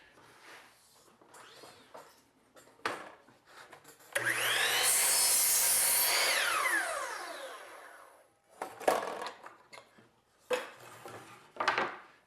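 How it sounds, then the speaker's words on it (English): A saw cuts a miter on wooden door casing: a loud, sustained whirring cut lasting about four seconds, with the blade winding down afterward, framed by short knocks and handling sounds of the wood. "And then I cut the miter."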